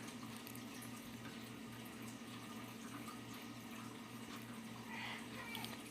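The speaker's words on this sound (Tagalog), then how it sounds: "Tapos isasali na ulit natin yung katas ng miracle fruit para masala" Miracle fruit juice is poured and strained through cloth into a pitcher, giving a faint continuous trickle of liquid under a low steady hum.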